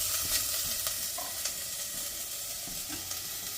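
Onions and garlic sauté in a pan with a steady, bright sizzle and crackle, close and continuous, with a few soft scrapes of stirring and no voices.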